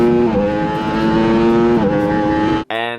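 A racing motorbike engine revs at steady high pitch, shifts up with a brief drop in tone partway through, then cuts out sharply before roaring back near the end, loud and close.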